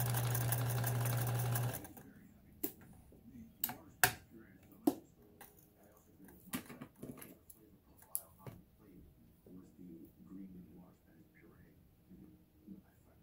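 A Kenmore sewing machine runs a short burst of steady, buzzing stitching, then stops. Scattered clicks and handling taps follow at close range, with some quiet voice sounds mixed in.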